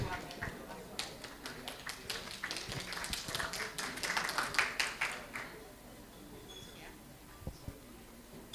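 A seated audience at an Indonesian anti-corruption dialogue gives a few seconds of scattered, fairly quiet applause for the moderator, the claps thinning out before a voice starts to speak.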